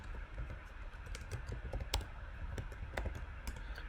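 Keys clatter quietly on a computer keyboard as a layer name is typed in image-editing software. The keystrokes come in a quick, irregular run of clicks, close by and alone.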